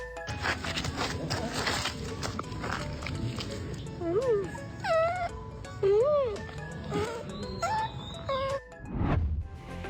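Puppies at a Ukrainian military post whimper and squeal in high, wavering cries, several short whines rising and falling over a background of people talking.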